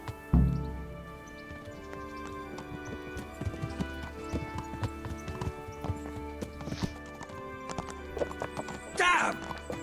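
Video game horse hooves clip-clop in a steady walking rhythm, close and clear, ending in a loud neigh near the end.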